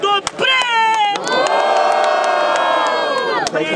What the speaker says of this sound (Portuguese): Quem gostou das rimas do Mota faz muito barulho.